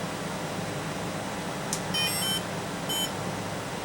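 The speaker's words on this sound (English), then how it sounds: "When I connect the battery, you should hear 3 beeps." A few faint, short electronic beeps from an RCTimer HVSK 40A electronic speed controller as its battery connects, over a steady background hum, two close together and then one more a moment later.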